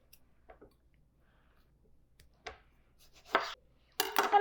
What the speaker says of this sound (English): Just cut into a little bit smaller pieces and just place them in the blender as well.